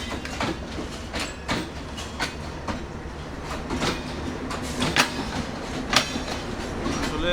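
The Kurigram Express rolls along the rails with a steady rumble and a run of sharp, regularly spaced wheel clacks over the joints, heard close and with no talk.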